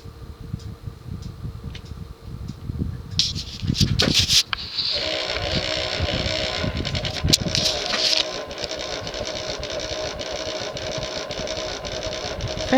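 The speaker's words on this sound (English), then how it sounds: "Fan has a little bit of wobble." Sears Emerson plastic-bladed 54-inch ceiling fan running on medium with a wobble: a steady motor hum and whir that shifts and thickens partway through, with brief knocks and rattles near the start and no talk.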